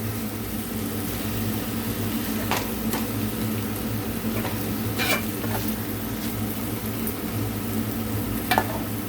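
Curry simmering in a pan, a steady soft sizzle and bubbling held under a constant background hum, with a few faint clicks and light stirring taps scattered through.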